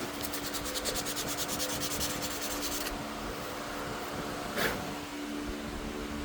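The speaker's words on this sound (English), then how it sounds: "I'm just going to take a piece of sandpaper now and clean that up" Close, steady rubbing of sandpaper by hand to clean up freshly turned wooden barrels and tenons. A rapid rhythmic rasp at first settles into smoother continuous scraping, with one brief louder scrape near the end.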